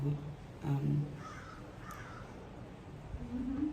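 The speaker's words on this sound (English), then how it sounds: "I've also got crows going absolutely nuts in the southwest right now" Several crows caw loudly outdoors to the southwest, harsh repeated calls in short bursts, some near and some farther off, over a steady background hum.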